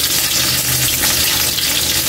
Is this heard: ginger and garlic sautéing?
yes